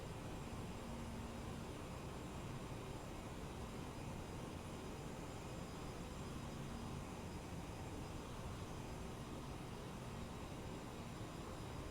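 The CRJ jet airliner in Microsoft Flight Simulator 2020 gives a steady, broadband engine and airflow hum in flight, constant and even in loudness throughout, with no talk.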